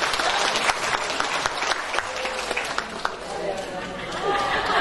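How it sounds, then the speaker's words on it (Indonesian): A seated audience at a talk claps warmly, steady dense applause lasting several seconds with scattered cheers and chatter, while a presenter's voice carries over it. "Tepuk tangan untuk kita semua."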